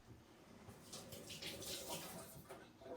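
Hands are washed under a running tap in a home kitchen, a soft, continuous splashing rush of water that swells and eases, heard alone at low volume.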